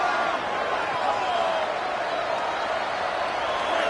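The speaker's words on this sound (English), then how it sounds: "The Buckeye crowd alive on 3rd down." Ohio State Buckeye stadium crowd roaring on a third down during a college football game, a steady, loud wash of cheering and noise from a huge audience with no breaks, partly mixed with voices.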